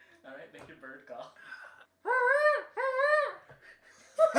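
A person imitates a bird call in the woods, producing two loud, drawn-out warbling cries in a row after some quiet voices, with another short call starting at the end.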